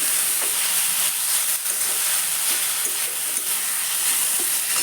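Mixed vegetables cooking in a pan on low flame give a constant, loud hiss and sizzle, with faint stirring scrapes under it and no talk.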